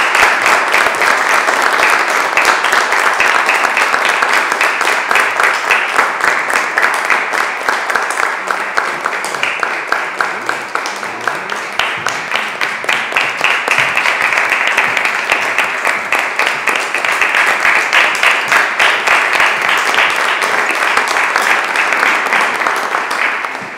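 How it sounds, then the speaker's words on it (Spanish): Sustained, loud applause from a large audience at a piano and flute recital fills the whole stretch, dense clapping that swells and holds without letting up. "Un aplauso, por favor."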